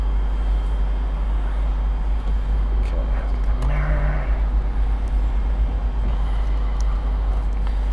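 An Audi S4 pulls away in first gear, its engine a steady close rumble throughout, with a brief rise in revs near the middle as the car moves off.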